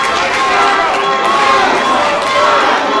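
A wrestling crowd at a live pro wrestling show roars and cheers steadily, a loud, dense wash of many voices filling the whole stretch.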